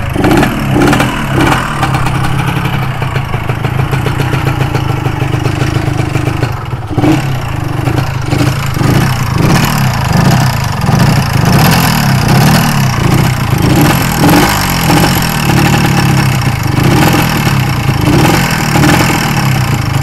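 A Yamaha 125Z two-stroke motorcycle engine runs close by for the full stretch, a loud, steady idle with rhythmic clattering pulses and occasional blips of revving.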